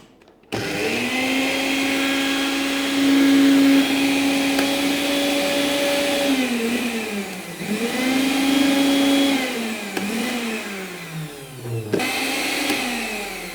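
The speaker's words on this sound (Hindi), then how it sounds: "तो देखिए अभी ये मिक्सी अपना काम ठीक से कर रही है।" A repaired juicer mixer grinder switches on and runs with a loud, high motor whine that dips and recovers as the load shifts, then winds down near the end.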